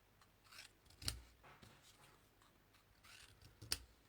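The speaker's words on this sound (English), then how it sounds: "cut each of these in half" Scissors snip through stamped card to cut each piece in half during a papercraft project: two crisp, close cuts about two and a half seconds apart, with quiet paper handling in between and no talk.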